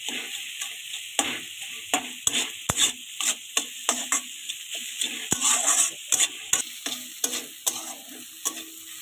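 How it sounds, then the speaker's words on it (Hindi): Vegetables cook with homemade wheat-flour pasta in a pan, a quiet sizzle under a close rhythmic series of spoon strokes scraping and tapping against the pan. "तो इसको हम 2 से 3 मिनट तक पकाएंगे सब्जी को अच्छे से।"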